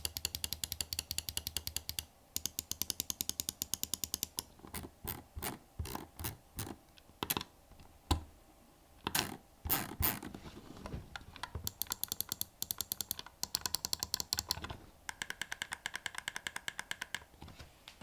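Razer Basilisk V3 gaming mouse with optical switches, its buttons clicked close up in rapid crisp bursts, with short pauses between runs and single sharper clicks in the middle.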